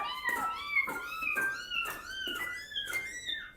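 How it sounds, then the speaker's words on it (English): A homemade cat piano plays a string of realistic cat meows, six or so rising-and-falling mews in quick succession at a soft, even level, with no one talking. "there's this one which sounds more like real kitties"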